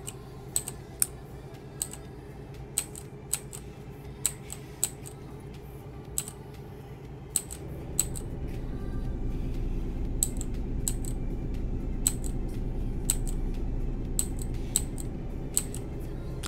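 A mechanical computer keyboard clicks in sharp, irregular taps, sometimes in quick bursts. From the middle onward a steady low truck-simulator engine drone sits underneath.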